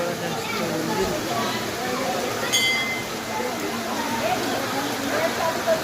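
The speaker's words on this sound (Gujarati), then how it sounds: "વરસાદ એવો પડ્યો જબરજસ્ત" Heavy rain pours down as a constant hissing patter, with a faint clink partway through and people talking beneath the downpour.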